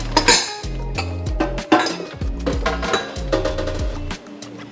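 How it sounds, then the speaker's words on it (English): A mixing bowl clatters into a kitchen sink, ringing metallic clinks and clanks repeating at irregular intervals as it settles, with cutlery-like chinks among them. "Bowl in the sink."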